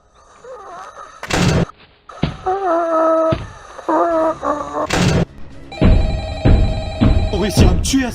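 Telephone rings in a Minecraft mini-film, tonal ringing mixed with loud crashes and thumps in a busy soundtrack, with speech around it.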